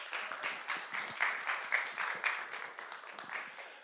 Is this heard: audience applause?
yes